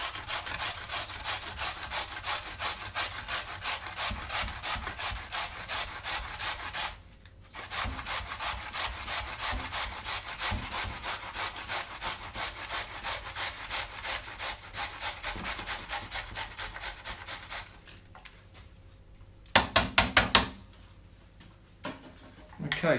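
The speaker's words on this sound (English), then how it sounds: "you will definitely need a grater, and we're using the cheese grater part of it" Vegetables for coleslaw are rubbed against the cheese-grating side of a grater in fast, even rasping strokes, close and continuous, with a brief pause midway and a few sharper scrapes near the end.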